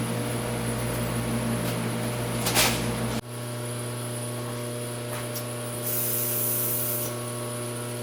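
Compressed air blasting off a machined steel part while making scope rings for a Browning A-Bolt 3 rifle: a steady, loud hiss over a constant shop hum, cutting off sharply about three seconds in, then a quieter hiss returning later.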